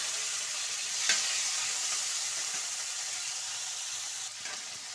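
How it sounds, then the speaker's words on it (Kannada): Tomatoes and coriander fry in hot oil in a pan, giving a continuous close sizzling hiss with a faint stir or crackle now and then. "ಎಣ್ಣೆಯಲ್ಲಿ ಫ್ರೈ ಮಾಡ್ಕೊಳ್ಳಿ."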